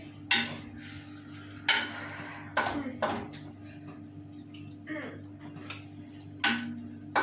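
Chicken macaroni being stirred with chicken powder and chili flakes in a pan, a utensil scraping and clinking against the metal in irregular strokes about every second over a low steady hum.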